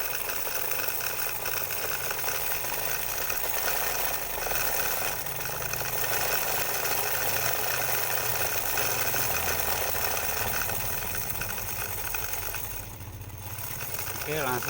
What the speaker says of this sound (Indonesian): caranya agar suaranya mirip mesin diesel